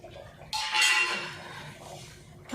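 Fried paneer being stirred into palak gravy in a pan with a ladle: a sudden metallic scrape and clink of the ladle against the pan, followed by softer sloshing and scraping, close by with no talk.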